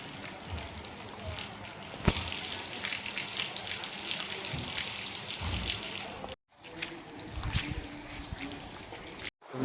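Rain falls over a small, gently flowing village river, making a continuous broadband wash of water and drops that cuts out briefly twice.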